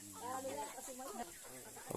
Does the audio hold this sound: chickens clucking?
yes